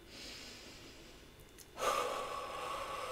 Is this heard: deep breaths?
yes